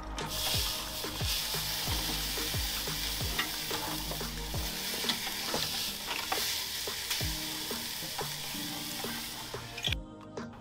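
A pork roast sizzling on a preheated Weber Baby Q grill after oil and salt, a soft steady crackle broken by repeated clinks and knocks of handling, ending in a sharp tap.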